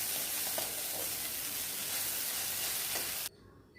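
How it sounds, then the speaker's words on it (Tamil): Okra frying and being stirred in a pan, a loud steady sizzle close by with faint scrapes of stirring, cutting off abruptly near the end. "சேர்த்துக்கிட்டு வெண்டைக்காவை போட்டு நல்லா வதக்குங்க."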